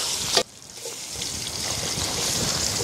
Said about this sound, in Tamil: இந்த டைமில் நம்ம வெங்காயம் சேர்த்துக்கலாம் பாய்.